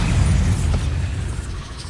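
A Bombarda spell bursts in Hogwarts Legacy, giving a loud, close, low explosive rumble that stays heavy and rolls on for about two seconds.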